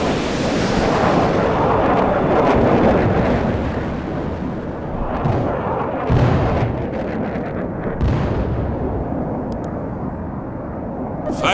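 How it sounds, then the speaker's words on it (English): An artillery barrage in World in Conflict, with continuous heavy rumbling blasts and roaring explosions packed densely together, loud and sustained, and several sharper impacts standing out through the din. "We can deploy and lay down a heavy barrage"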